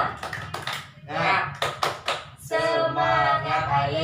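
A school class plays the tepuk semangat clapping rhythm game, sharp hand claps and taps in quick patterned bursts mixed with a teacher and children talking and chanting along, close and lively.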